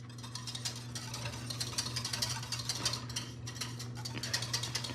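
Wire whisk stirring cornstarch slurry into hot milk in a pot for salted caramel ice cream base, a steady close scraping and clinking rhythm over a low constant hum.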